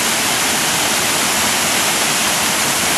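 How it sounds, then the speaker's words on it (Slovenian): A waterfall in a park near Cairns, Australia, roaring as a loud, steady wash of rushing water that fills the whole scene without break. "Slap številka 2."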